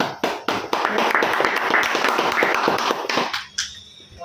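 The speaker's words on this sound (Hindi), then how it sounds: "एक बार मेहताब के देखो, जोरदार तालियां बजा" Students clapping loudly in a classroom, giving a dense burst of rapid, overlapping claps that builds and then cuts off into quiet, close and without talk.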